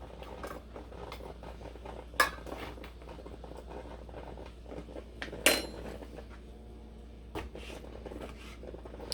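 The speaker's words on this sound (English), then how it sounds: "I'm cutting my pineapple chunks down and I'm adding those to the sauce here" A knife cuts canned pineapple chunks on a kitchen board, giving soft irregular taps and scrapes with a few sharper clacks of utensils against a low background hum.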